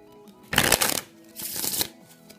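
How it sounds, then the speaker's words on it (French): A deck of playing cards is riffle shuffled up close in two quick bursts of fluttering, rippling card noise, each about half a second long, with a brief pause between them. "Le mélange que je viens de faire, c'est le mélange américain."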